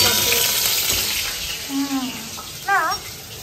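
Flower-shaped eggplant slices fry in hot oil with a loud, close, steady sizzle, while brief muffled voice sounds rise faintly in the background.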